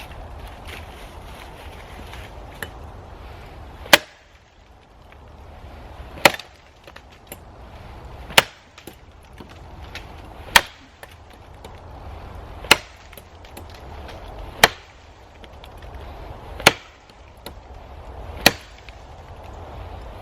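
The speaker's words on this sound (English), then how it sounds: "let's do an 8 chop test and see how far we can get through this" A Klecker Klax lumberjack axe chops into a downed log of very hard wood outdoors, about nine sharp, loud, evenly spaced impacts roughly two seconds apart over faint wind.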